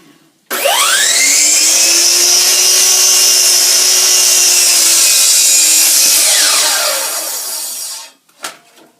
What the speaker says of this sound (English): we're going to miter cut the edges